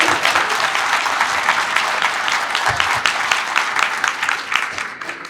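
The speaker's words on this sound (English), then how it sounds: "join me in a round of applause for all our award winners tonight" Audience at a small business entrepreneur awards reception applauding the winners, sustained crowd clapping at moderate distance with scattered sharper claps and a faint murmur of voices underneath.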